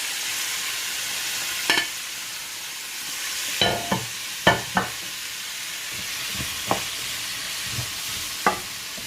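Spring onion, okra, tomato and crushed and whole pimento frying in a pan, a soft steady sizzle with a few sharp clinks and scrapes of stirring, close by and without talk.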